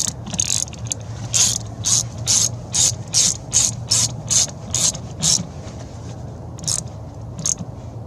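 A ratchet tightens the 10 mm battery terminals on a 2012 Dodge Grand Caravan, a close, loud run of quick clicking bursts in a steady rhythm, briefly pausing before a few final strokes.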